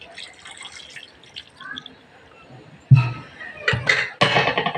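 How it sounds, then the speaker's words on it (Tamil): A glass of water splashes and pours into a metal pressure cooker holding beef, salt and ginger-garlic paste, in a few short bursts, close and fairly loud after a quiet start. "1 கிளாஸ் தண்ணி ஊற்றுறேன்."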